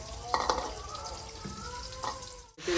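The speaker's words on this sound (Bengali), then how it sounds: "এবার দিয়ে দেবো পেঁয়াজ" Three chopped medium onions are dropped into hot oil in a wok. A soft, steady sizzle hisses under brief clatters and a voice speaking.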